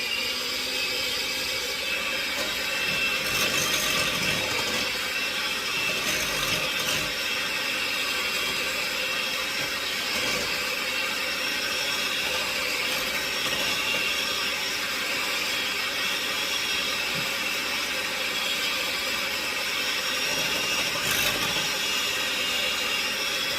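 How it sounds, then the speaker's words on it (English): An electric mixer whips cream on high speed toward medium peaks for a from-scratch Dracula cake, giving a steady, loud whirring drone that runs unbroken with no talking. "we're going to beat this on high. So bear with me for the noise for a minute"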